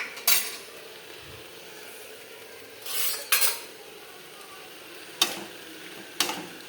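A spoon stirs tomato, onion and green chilli with a pinch of salt in a pan, giving a few sparse scraping clinks spaced a second or two apart over a quiet background.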